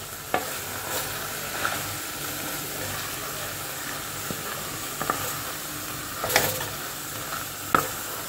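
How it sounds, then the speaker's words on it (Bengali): Chicken mince stir-fried in a pan with little oil gives a soft, steady sizzle and hiss, broken by occasional sharp scrapes and taps of a spatula against the pan. "চিকেন কিমাটাও দিয়ে দিলাম, দিয়ে এবার পুরোটা খুব ভালো করে কষাতে থাকবো।"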